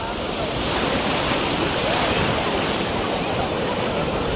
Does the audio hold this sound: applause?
no